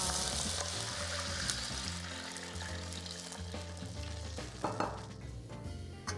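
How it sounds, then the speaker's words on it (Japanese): Water poured into a hot frying pan of garlic oil while making nori pasta, with the heat turned off, sizzling and bubbling loudly and steadily throughout, fading slightly toward the end, with a few clinks. "じゃあお水入れていきます。"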